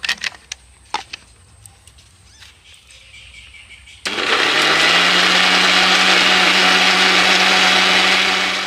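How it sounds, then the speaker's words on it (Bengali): A mixer grinder starts abruptly after a few soft clicks and knocks and then whirs steadily and loudly, blending raw potato with water into a smooth paste. "মিক্সিতে ঘুরিয়ে আমি আলুটাকে খুব ভালোভাবে পেস্ট করে নিয়েছি।"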